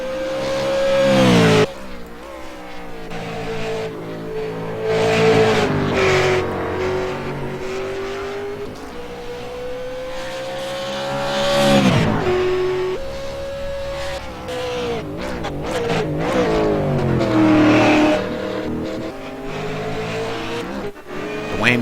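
A Holden race car engine in an auto race revs hard, its pitch climbing and dropping through gear changes and corners, loud and continuous with cars passing and faint tire squeal.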